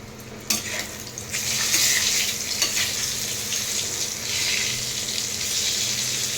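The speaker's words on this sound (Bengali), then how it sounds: "এরকম বেগুন ভাজা কার ভালো লাগে।" Brinjal slices fry in a hot pan, giving a continuous, even sizzle with a few soft stirring scrapes near the start; no one speaks.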